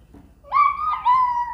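A toy dog lets out an electronic bark, a single drawn-out yelping tone that dips and rises again, heard close and alone against quiet.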